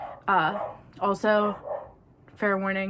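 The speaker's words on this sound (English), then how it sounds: "Sorry about the dogs." Several dogs bark and yip indoors in short bursts of three or four loud calls, mixed in with a person talking nearby.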